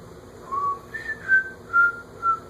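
A person whistles a short tune of about five sustained notes, rising then settling, fairly close and clear over a low background hum.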